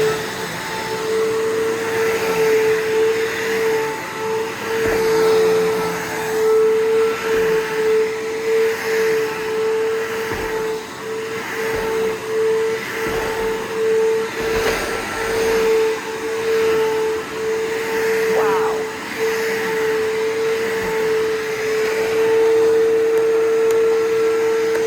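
A vacuum cleaner motor drones loudly and steadily for the whole stretch, a sustained whine with a rough edge, close up and without talk.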